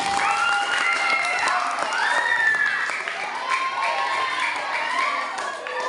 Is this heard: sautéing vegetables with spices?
no